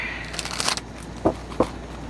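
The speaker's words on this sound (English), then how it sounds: "I'm going to start shuffling the cards" A deck of tarot cards is shuffled up close: a quick flurry of papery riffling followed by two sharp, separate card taps, with no speech.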